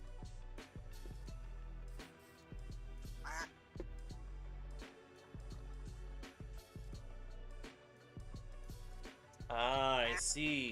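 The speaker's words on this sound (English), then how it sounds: "Where's the little quacking dude?" A duck quacking in modded Minecraft Java, several short quacks, with a louder run of quacks near the end over steady game music and tones.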